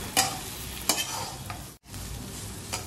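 Potato filling for batata vada sautes in a pan on a low flame, a gentle continuous sizzle broken by a few scraping stirs of a spatula, close and moderately quiet, with a brief gap midway.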